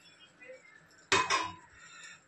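A spoon clinks against the side of a pot while egg gravy with boiled and fried eggs is stirred: a quiet scrape, then one sharp metallic knock followed by a softer second clatter.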